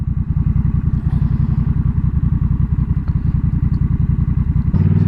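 A Honda Rebel 1100 motorcycle engine runs steadily and loud at close range, a throbbing low pulse that holds even through the clip before a brief change in tone near the end.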